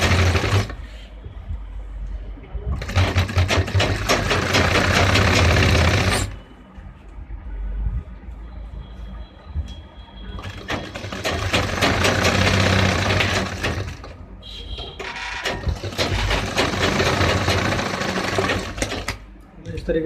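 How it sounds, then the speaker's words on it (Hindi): A sewing machine stitches the folded hem of a gents' formal trouser in loud, close bursts of rapid whirring, running about six seconds, pausing with a low mechanical hum, then two more long runs. "इसको मोड़ेंगे, सिलाई लगा देंगे।"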